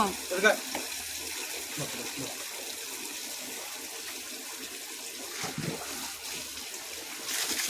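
Steady running water from a tap spills and splashes during a pet dog's bath, a continuous hiss with small splashes throughout, with a voice talking briefly over it.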